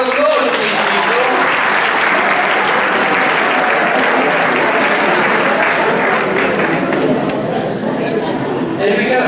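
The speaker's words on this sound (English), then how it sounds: "Give them a round of applause, these people." Audience at a business keynote breaking into sustained applause, a dense, loud wash of many hands clapping with some chatter underneath, tapering slightly near the end.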